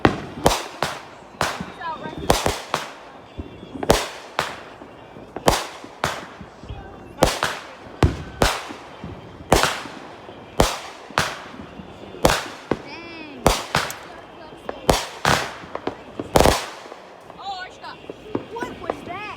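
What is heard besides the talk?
Fourth of July fireworks exploding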